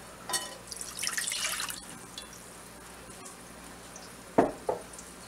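Vinegar for sweet and sour sauce pours briefly into a container with a close, trickling splash, then a quiet pause and a short clunk and drip as it finishes.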